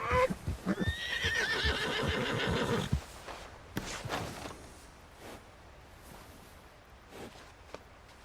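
A horse whinnies loudly and at length, then hooves clop and shuffle with scattered bumps as the sound fades.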